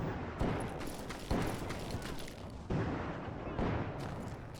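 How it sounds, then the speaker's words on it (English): Gunfire fills a battle scene in the video game Call of Juarez: Gunslinger: a constant crackle of shots under several loud booming bursts that strike at irregular intervals. "Listen to all the gunfire."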